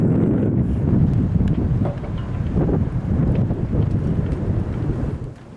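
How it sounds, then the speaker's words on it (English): Steady wind of about 15 knots buffets the microphone at a sailboat anchorage, a continuous loud rushing roar with faint hull and water sounds underneath, easing off only at the very end. "We still have a bit of wind, 15 knots here at the anchorage"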